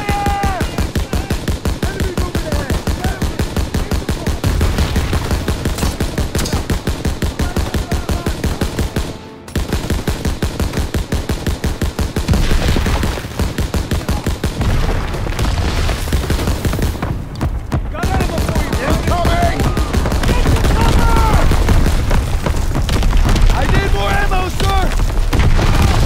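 Sustained battle gunfire from Call of Duty: WWII, dense machine-gun bursts and rifle shots rattling continuously with booming impacts, loud and close, while shouted voices call out over the fighting.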